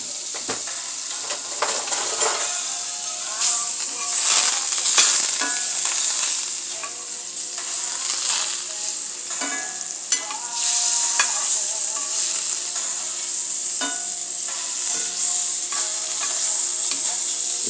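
Butter and vegetables sautéing in a skillet, with a bright continuous sizzle and frequent stirring scrapes and clicks of a utensil against the pan, close and fairly loud with no talking.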